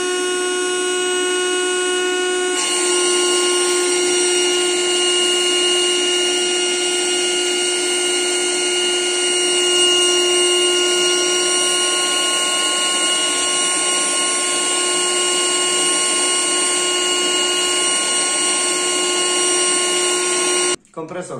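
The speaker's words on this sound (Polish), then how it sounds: "nasza końcówka będzie odsysać powietrze z danego, z przedmiotu, który został wcześniej nadmuchany" Ryobi R18 cordless compressor running in suction mode, drawing air out of a previously inflated item, a steady loud motor whine and hiss that holds unbroken for about twenty seconds before cutting off at the end.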